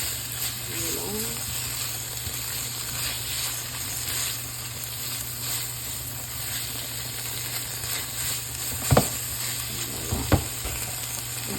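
Spaghetti sauce with peppers, chilies and thyme sizzling in a pan while being stirred, a constant close frying hiss with a few sharp utensil clinks near the end.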